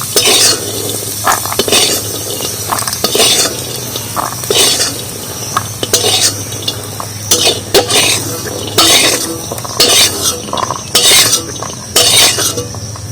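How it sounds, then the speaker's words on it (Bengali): A spoon scoops fried chickpeas from a pan into a bowl, with repeated scraping clinks of metal on the pan in irregular bursts over a faint sizzle, close and fairly loud. "ছোলাগুলো আমার ভাজা হয়ে গেছে, আর এই বাটির মধ্যে তুলে নেবো ছোলাগুলো।"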